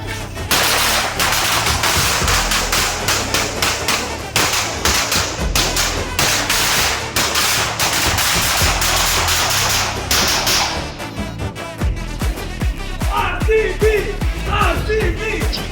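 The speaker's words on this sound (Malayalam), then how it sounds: "നമ്മള് പടക്കം പൊട്ടിക്കണം" Firecrackers bursting in a cricket victory celebration: dense rapid strings of sharp cracks and thuds for about ten seconds, then scattered louder single pops continuing to the end.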